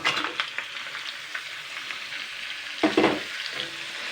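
Fish roe frying in hot oil spread across a pan, a steady crackling sizzle with a louder burst of spattering partway through, heard close with no talk.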